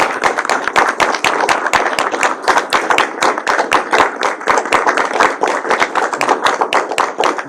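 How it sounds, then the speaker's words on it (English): Audience applause at a county board meeting, a dense run of sharp hand claps that carries on steadily and fairly loud with no talking. "So round of applause for these folks."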